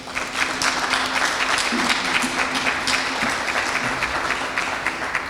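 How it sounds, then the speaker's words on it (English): Sustained applause from a crowd at an Islamic Heritage Month event at Ottawa City Hall, steady clapping throughout with a faint tonal hum in the background. "Big applause for all of them."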